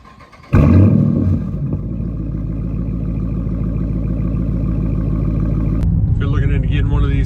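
A Dodge Challenger RT with a 3-inch MBRP catback, X-pipe and no mufflers or resonators starts up with a sharp bark, then settles into a loud, deep, rumbling idle that holds steady; a voice speaks briefly near the end.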